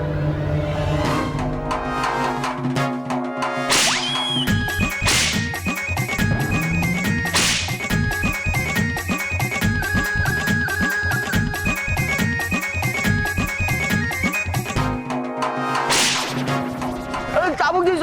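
Loud whip cracks ring out repeatedly in a Hindi fantasy TV serial, sharp snaps landing over a dense bed of dramatic music and sound effects.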